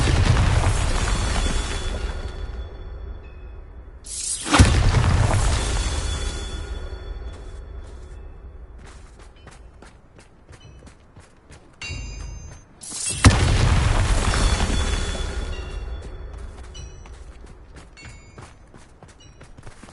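Bombarda blasting spell fired in Hogwarts Legacy: two heavy booming explosions several seconds apart, each a loud sudden burst that rumbles and decays slowly, with faint mechanical creaks and clatter in between.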